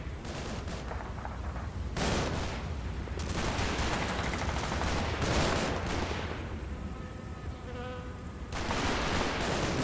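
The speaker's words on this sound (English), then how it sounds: "playing the Axis forces and the heavy machine gun fires" An Axis heavy machine gun firing in Combat Mission Fortress Italy, long sustained bursts of fast rattling fire separated by short pauses, loud and steady with no talk over it.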